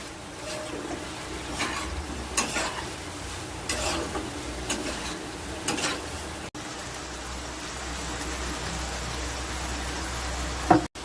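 Soybean curry sautés in a pan with a soft continuous sizzle and several scraping stir strokes in the first half, then a steadier, quieter simmering hiss, close by.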